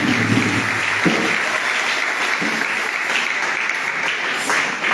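A congregation claps for the risen Christ at Easter Mass in Cap Esterias, producing loud, dense, continuous applause that fills the room from start to finish.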